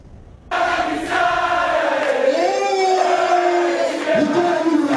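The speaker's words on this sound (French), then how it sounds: "la foule est en liesse" A jubilant crowd of party supporters gathered in a hall in the Democratic Republic of Congo, erupting suddenly into loud sustained cheering and chanting voices, close and full, with shifting tones of many people shouting together.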